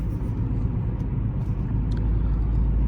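A 2020 Nissan Maxima idles while it warms up, giving a steady low engine rumble close by with no talking.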